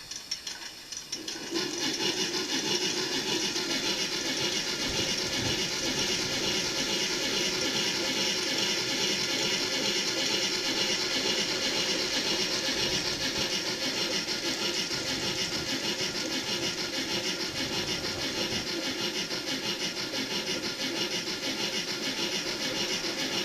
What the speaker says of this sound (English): Now let's see a bit of running video of the N-class with this train.